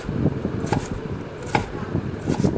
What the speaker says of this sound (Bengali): এখন আমগুলো কেটে নিব।